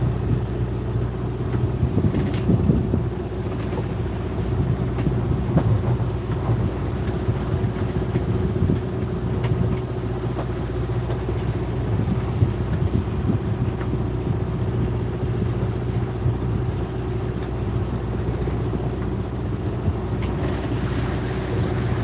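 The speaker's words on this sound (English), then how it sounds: "wind is behind us." Steady wind rushes over a sailboat at anchor with the breeze behind, a continuous full roar of wind and water noise that never lets up, with no voices.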